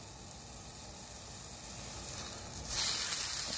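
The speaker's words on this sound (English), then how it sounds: "now I'm gonna brown the ground beef." Ground beef browning in a pan for a Chipotle-style burrito bowl gives off a steady, close sizzle that grows a little louder and brighter near the end, with no talking.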